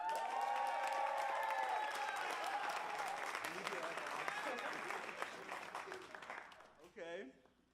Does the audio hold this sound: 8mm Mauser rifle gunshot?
no